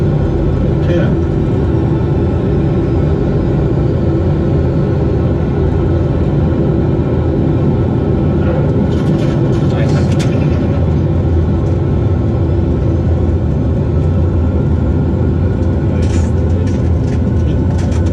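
Steady, loud aircraft engine rumble in a flight simulator on approach to a runway, a continuous broadband drone that holds level throughout with faint clicks and talk mixed in.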